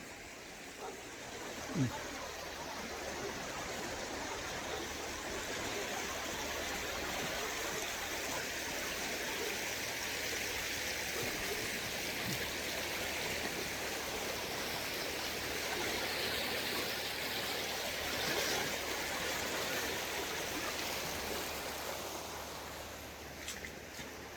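A flooded river rushes through the streets and house yards of Mayakovski, a steady broadband roar of churning water heard close and continuous throughout, with no voices standing out above it.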